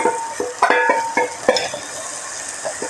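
Chili, coriander and pepper powders frying in a pan with spices, a close, steady sizzle broken by several sharp scraping stirs, no talking.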